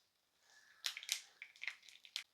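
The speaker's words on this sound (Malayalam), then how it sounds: "കടുകൊക്കെ പൊട്ടി ഇച്ചിരി ചെറിയ ഉള്ളി ഇട്ട് കൊടുക്കാം." Mustard seeds splutter in hot oil in a pan, a short run of sharp, crackling pops at irregular intervals, close but fairly quiet.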